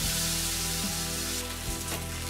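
Karimeen fish frying in oil on a tawa, a loud, steady, close-up sizzle with crackling spits that stays dense throughout.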